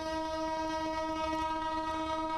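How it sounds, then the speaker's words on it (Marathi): The first passenger train leaving Beed station sounds a sustained, steady horn, a droning tonal blast with a low rumble underneath, with no voices present. "बीडवरून ही पहिली रेल्वे आता निघालेली आहे."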